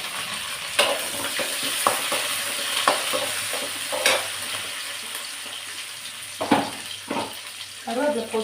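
Curry leaves, onion and chopped garlic fry in hot oil, a constant sizzling hiss broken by sharp crackles and spoon-against-pan stirring clinks, with a brief bit of background noise near the end.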